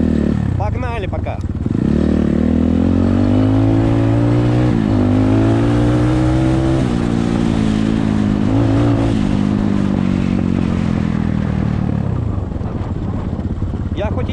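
BSE Z3 enduro motorcycle ridden on a road, engine close and loud with rising and falling revs as it accelerates and shifts, a steady drone under occasional rider talk.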